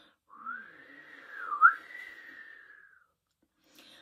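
Someone whistles a single wavering, airy tone to imitate the wind. It glides down, sweeps back up around the middle and tapers off over roughly three seconds, close up and alone.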